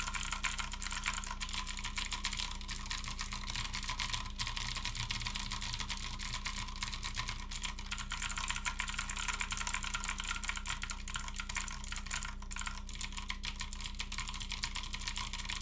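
Typing on an aluminum iKBC MF87 mechanical keyboard fitted with blue switches and OEM keycaps: a fast, continuous stream of crisp clicky keystrokes, close and fairly quiet, with no talk.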